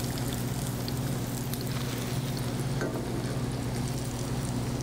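Battered smelts frying in hot oil, a continuous close crackling sizzle with a low steady hum underneath and no voices.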